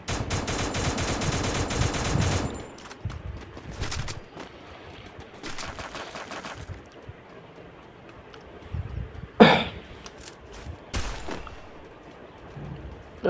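Bursts of rapid automatic gunfire from a gun in the video game Free Fire, with a long loud volley at the start, shorter bursts later and a sharp crack near the end, over a quiet game background.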